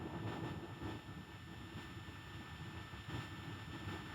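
Idle gaming PC running Wallpaper Engine gives off a steady, constant low hum with a faint broadband whir, unchanging throughout and heard alone with no talking.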